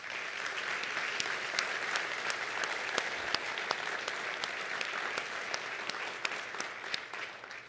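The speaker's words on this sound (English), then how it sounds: "So how about an applause for our staff?" Sustained applause from a sizable audience at a State of the City address in Maricopa, steady and even throughout with scattered sharper claps standing out.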